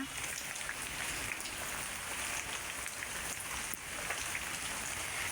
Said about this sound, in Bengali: দেখেন ওই যে উপর থেকে দেখেন কিভাবে জল পড়তেছে